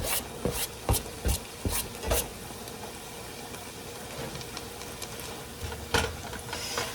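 Spinach being stirred into a cooking pot with spaghetti, a steady scraping rub with several sharp knocks of the utensil against the pot, close and loud with no talking.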